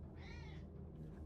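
A single short meow comes from a cat in the Minecraft video game. It is clear but quiet and stands alone with no talk over it.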